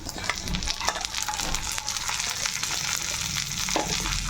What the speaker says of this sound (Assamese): এতিয়া মই কাটি থোৱা ৰঙালাও বাকলিখিনি দি দিছোঁ।